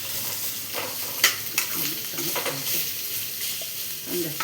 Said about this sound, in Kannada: ಈರುಳ್ಳಿ ಓಕೆ. ಎಷ್ಟೊತ್ತು ಹುರಿಬೇಕಾಗತ್ತೆ?